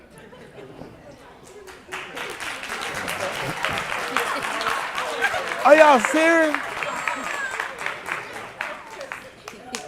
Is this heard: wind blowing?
no